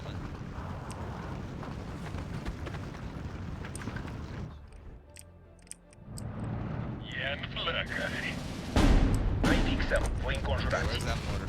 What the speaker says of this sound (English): Okay, where's that mortar fire coming from?